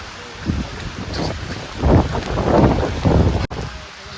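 Steady heavy rain roars close by at the seashore, swelling in gusty surges with wind buffeting the microphone.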